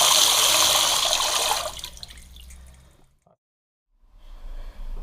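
Water spluttering with air from an old sink tap, a loud rushing gush that cuts off abruptly, followed by near silence and then a fainter low rumble as flow resumes.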